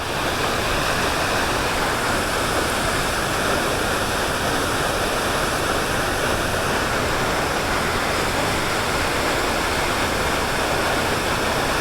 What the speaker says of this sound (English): the roar has gotten louder and louder the closer we get to Pierce Creek and Big Beaver